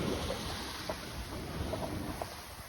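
Choppy sea waves slapping against a sailing yacht's hull in the Grenadines, with steady wind noise and water rushing continuously over the whole stretch, no voices.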